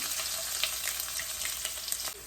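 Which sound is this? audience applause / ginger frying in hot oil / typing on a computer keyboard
ginger frying in hot oil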